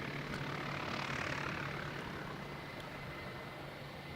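A propeller airplane taxis at Canterbury Aero Club in strong wind, a faint, steady engine drone at a distance blended with broad wind rush.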